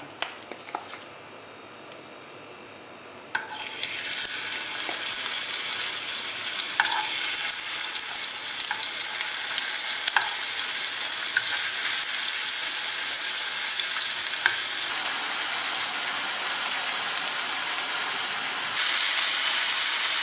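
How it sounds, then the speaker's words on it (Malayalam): Prawns drop into hot oil in a pan and fry with a loud, continuous sizzle that begins suddenly and holds steady, with occasional pops and stirring noises. "ഒരു പാനിലേക്ക് എണ്ണ ഒഴിച്ച് ചൂടായിട്ടുണ്ട്. നമുക്കിതിലേക്ക് ചെമ്മീൻ ഇടാം."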